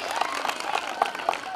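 Audience clapping at a Christmas celebration in a junior college hall, a short burst of moderately loud, dense applause with crowd murmur.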